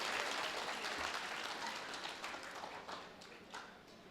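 Steady audience applause at a Tamil pattimandram debate event, with dense, overlapping claps that gradually thin and soften over a few seconds, heard at a moderate distance.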